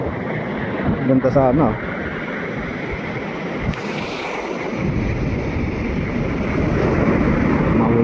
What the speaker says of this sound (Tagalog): Ayun ang agos, galing sa ilog.